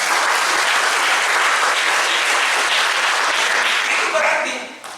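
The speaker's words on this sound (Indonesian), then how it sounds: "Berikan tepuk tangan untuk Tuhan Yesus Kristus." A church congregation at a thanksgiving service applauds loudly and continuously for several seconds, the dense clapping fading out at the end.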